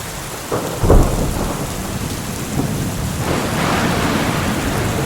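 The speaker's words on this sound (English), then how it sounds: "now the rain is really coming down" Steady heavy rain pours down on a campsite at Devils Tower with a couple of low thunder rumbles rolling through, the downpour swelling louder toward the end.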